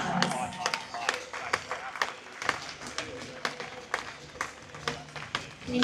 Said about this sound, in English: Let's go one more time, round of applause.